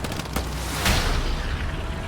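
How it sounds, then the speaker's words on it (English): Distant battlefield explosions in Hell Let Loose, a broad rumbling boom with a sharper blast near the start and another in the middle, continuous noisy combat ambience and no talking. "Then again, I also hear the explosions."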